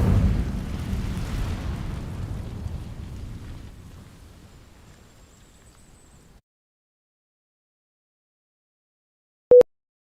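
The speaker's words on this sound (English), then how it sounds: "These dry vines are one spark away from becoming kindling. Incendio." Fiery spell burst in Hogwarts Legacy, Incendio igniting dry vines: a loud whooshing roar of flame that decays over about six seconds into silence, followed by a single sharp tonal chime.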